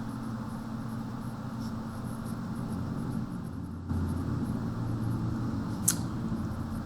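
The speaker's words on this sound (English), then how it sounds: "Let me write that down." A pen scratches out an interest formula on a surface in a quiet room, a steady soft scraping that runs throughout under low background hum, with no talking.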